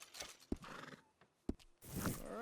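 A horse in Red Dead Redemption 2 gives a loud neigh and whinny, with snorts and a couple of sharp hoof clops in between, close and clear.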